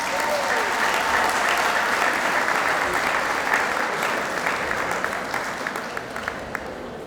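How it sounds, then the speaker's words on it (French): A hospital staff ceremony audience applauds a gynecology doctor, sustained dense clapping from a sizable crowd that stays loud and steady before tapering slightly at the end. "je voudrais qu'on acclame le docteur Botin"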